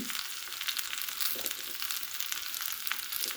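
Ground spices crackle in hot oil for an egg curry, with a steady, close sizzle and small pops and no talking.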